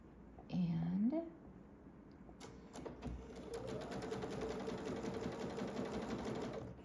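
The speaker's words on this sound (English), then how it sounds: "we're going to sew these 3 units together in a row" A sewing machine stitches three quilt block units together in a row, a fast steady mechanical rattle of needle strokes running for several seconds after a brief voice and a few clicks.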